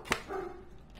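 A dog gives a single sharp bark followed by a short whining, drawn-out tone, close by inside a room while a horror game is playing.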